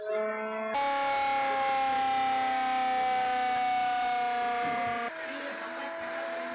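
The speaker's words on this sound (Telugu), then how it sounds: "లక్నోలోని పోలీస్ లైన్స్ లో వైమానిక దాడి సైరన్ పరీక్ష నిర్వహించారు" An air raid siren test at the Lucknow police lines during a civil defence mock drill: a loud, steady wailing tone that swells in, holds, then dips slightly in pitch, with faint traffic beneath.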